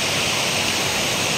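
Water rushing steadily at Bato Spring river in San Pablo, a dense continuous broadband roar close by with no break, like a small cascade pouring over rocks.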